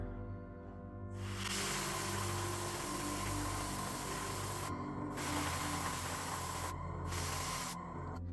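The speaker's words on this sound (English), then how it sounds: "I'm spraying at a 45-degree angle so that we keep some of the black in those recesses" An airbrush hisses in a steady, close spray of paint onto a Screamer Killer miniature, running for several seconds, broken by a few short pauses before resuming.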